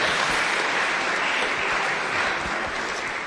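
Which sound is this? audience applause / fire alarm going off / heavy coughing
audience applause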